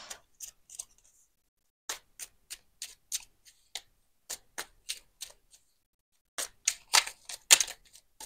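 An oracle card deck, the small Gaïa oracle, shuffled by hand, heard as a string of crisp, close riffling flicks in irregular bursts with short pauses and a denser flurry at the end; no voice.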